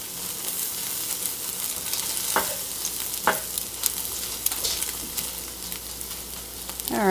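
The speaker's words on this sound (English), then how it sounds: "Get these eggs scrambled up real quick." Eggs scrambled in a frying pan for a copycat Dairy Queen breakfast bowl sizzle steadily, broken by a few sharp spatula scrapes and clacks against the pan, close and clear with no talking.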